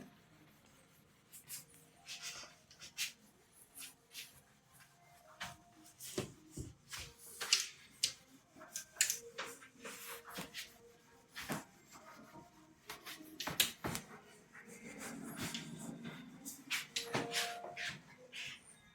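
A classroom chalkboard is erased during a Class 10 chemistry lesson: scattered dry taps and knocks, then a steadier stretch of broad rubbing and scraping near the end, fairly close and moderately loud, with no talking.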